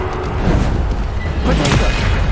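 Explosive Bombarda spell blasts in the Hogwarts Legacy video game on hard mode, dense rumbling booms and crashing combat effects filling the mix continuously, with game audio layered heavily throughout.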